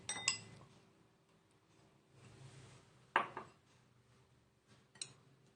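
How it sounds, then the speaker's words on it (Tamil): Leftover atho noodles being placed into a bowl make light clinks and knocks of dishware and utensils, with a few sharp taps standing out against a quiet kitchen background. "இப்போ அத்தோவை இதில் போட்டுக்கலாங்க."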